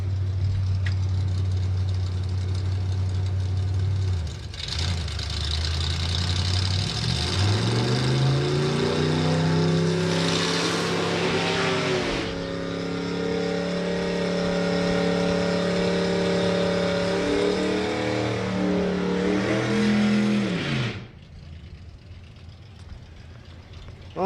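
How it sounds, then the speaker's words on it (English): Drag racing cars, a small dragster and a Mustang, at Santa Pod raceway: loud engines idle and then rev up steadily with rising, sustained roars before cutting off abruptly near the end. "James Ald with the little Faust dragster and the Mustang"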